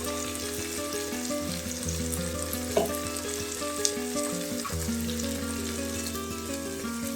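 Onion masala with turmeric, chilli and coriander powder sautés in a pan for chana masala, a steady close frying sizzle with a low hum and a couple of faint scraping stirs, with no talking.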